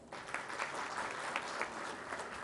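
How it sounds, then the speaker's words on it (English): Soft, steady applause from a conference audience at an international galvanizing conference, an even wash of clapping heard at a distance and fairly quiet throughout. "I urge you all to put your hands together to welcome them with a thunderous applause"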